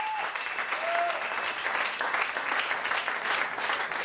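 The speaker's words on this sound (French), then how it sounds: "On applaudit aussi très fort." A comedy club audience on Réunion claps in a steady, full round of applause, with a brief whistle-like tone near the start over the dense clapping.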